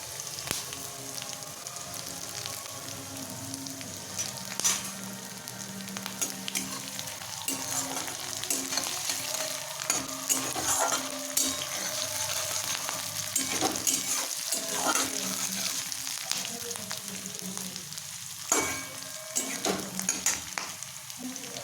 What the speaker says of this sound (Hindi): इसको 2 मिनट तक भूनने देते हैं। अभी दे देते हैं इसमें हरा मिर्च।